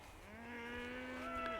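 A single cow gives a long, sustained moo on a farm, close and clear, holding a steady pitch before it rises slightly at the end, with no talking.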